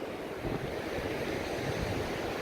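Ocean surf rolling onto an open beach at a free beachside camping spot, a steady broadband wash of breaking waves with wind noise buffeting the microphone, continuous and fairly loud, with no voices.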